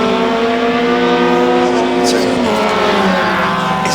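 A Reynard Volkswagen Formula VW single-seater race car at a hillclimb holds a loud, steady, high-revving engine drone close by, with a commentator talking over it throughout.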